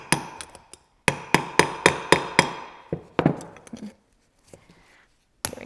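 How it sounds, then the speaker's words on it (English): Hammer striking a steel punch to drive out the wobble shaft of a Ford tractor hydraulic piston pump, a series of sharp metallic blows in a quick rhythm of about a dozen hits, close and loud, with pauses between groups. "I'm just using a punch like this one to drive it through, because sometimes it's pretty tight"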